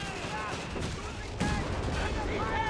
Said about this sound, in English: AT gun opens up against Bike